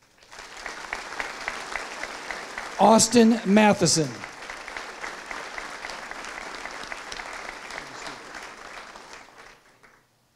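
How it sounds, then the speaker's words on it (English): A Lakeview 2018 graduation audience keeps up continuous applause for students as they stand. A voice briefly announces a name partway through, then the clapping carries on and fades out. "let's give each student a round of applause"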